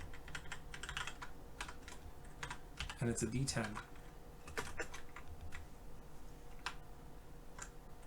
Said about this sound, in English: my typing is no good today.